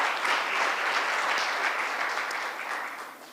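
Sustained audience applause at the launch of the Administration of Justice in Kenya annual report, a dense, steady clapping from a full room that holds evenly for several seconds before easing slightly.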